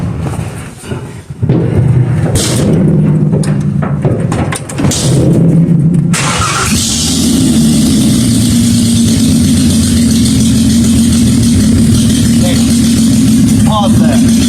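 A 1956 Ford F100 pickup engine idles steadily and loud after a burst of earlier clatter and handling noise, its low rumble holding on without a break through the rest of the clip.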